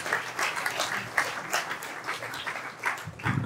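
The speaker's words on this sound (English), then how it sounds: "Give yourselves a round of applause." Conference audience applauding after a talk: a dense patter of many hands clapping at once, moderately loud and sustained for a few seconds.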